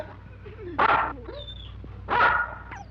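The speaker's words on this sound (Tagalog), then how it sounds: "Ang laking aso nito!" A big dog gives two deep, loud barks about a second apart, with whines and soft yelps in between.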